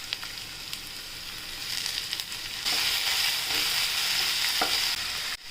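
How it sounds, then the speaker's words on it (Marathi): Tomatoes sizzle and stir-fry with garlic and onion in a pan for a garlicky cluster beans dish, with a steady hiss that swells louder partway through and occasional scrapes of stirring. "आता आपण याच्यात टोमॅटो टाकूया।"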